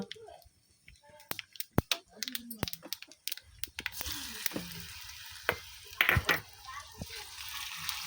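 Mustard seeds and cumin tempered in hot oil for rava aape: sharp scattered pops and crackles with a faint sizzle, light stirring taps, softer early and denser toward the end.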